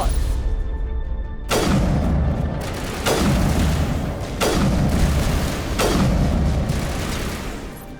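Heavy enemy gunfire in the video game Mass Effect 1 Legendary Edition, four booming shots spaced roughly every one and a half seconds, each with a loud sharp attack and a long rumbling decay.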